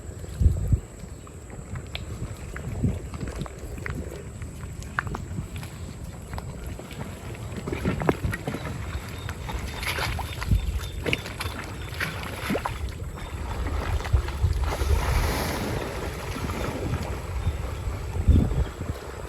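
A small rowing boat moves along a Sundarbans river on a fishing trip, with oars knocking and splashing at irregular intervals over steady wind rumble and water noise throughout, close to the microphone and without talk.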